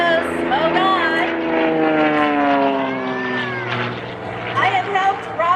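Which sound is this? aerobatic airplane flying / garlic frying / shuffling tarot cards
aerobatic airplane flying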